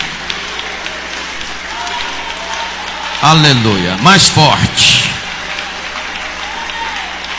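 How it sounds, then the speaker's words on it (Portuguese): A church congregation applauds for Jesus Christ, a continuous crackle of many hands under the whole stretch, while a man briefly calls out loudly over it midway. "quero que vocês aplaudam a Jesus Cristo"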